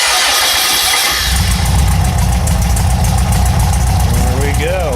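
An engine cranks briefly and catches, then settles into a steady rumbling idle up close, with a voice speaking near the end.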